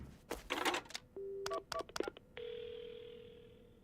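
Phone keypad tones as a number is punched in to call an ambulance in the horror video game Paranormasight: a burst of clicks, several short dialing beeps, then a steady ringing tone holding to the end, nearby with no talk.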